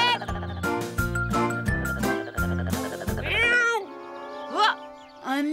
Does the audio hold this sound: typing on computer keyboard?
no